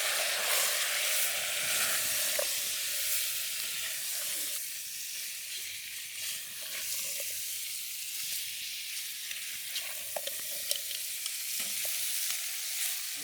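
Powdered spices frying in a pan at an outdoor campsite, a steady loud hiss and sizzle with occasional soft stirring scrapes and clicks, close up and continuous.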